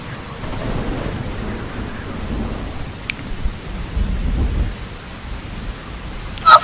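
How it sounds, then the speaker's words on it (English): A thunderstorm rumbles with deep, rolling thunder over steady rain, the low roar swelling and fading, with a sharp crack or splash near the end; no voices. "A strong wind blew through my mane as I felt raindrops collide against my skin"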